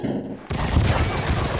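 In True Crime: Streets of LA, gunfire rings out during strafing, with a sudden burst of rapid shots after a quiet moment, loud and dense, with a faint voice underneath.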